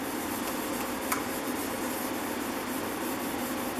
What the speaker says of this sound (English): I'm moving on to some 3000 grit. Again, I'm not rubbing hard. This is just going to polish it up.